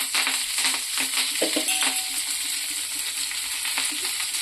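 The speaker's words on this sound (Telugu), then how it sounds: "ఇప్పుడు అదే ప్యాన్లో అయితే నేను కడిగి ఆరబెట్టుకున్న కరివేపాకుని అయితే వేసుకుంటున్నాను" Washed and dried curry leaves sizzle and crackle in a hot pan, with a loud, dense frying hiss throughout and a few scattered pops and spatters near the middle.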